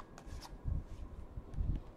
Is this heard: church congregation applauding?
no